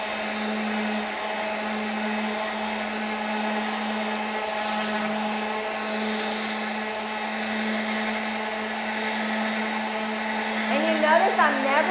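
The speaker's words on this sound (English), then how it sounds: "I'm never letting my sander sit in one spot because you'll start seeing those little swirls." An electric sander works over cured epoxy resin with 320-grit paper, giving a steady, close whirring drone with a strong constant hum that holds throughout and roughens briefly near the end.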